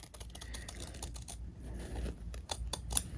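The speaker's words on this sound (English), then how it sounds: "So I'm just gonna keep cutting." Scissors cutting fabric away around a sewn garment finished with bias tape, heard as quiet, close crisp snips and rustles of cloth in an irregular run, with no voice.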